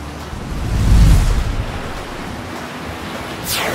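Ocean surf at a beach surges in one broad swell near the microphone, then settles into a steady wash of water mixed with blustery wind noise.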